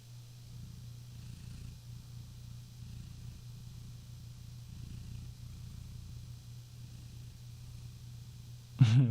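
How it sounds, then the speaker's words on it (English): A cat purring in a steady, low, continuous rumble, faint and close, broken at the very end by a sudden louder knock. "Who wants to hear him purr?"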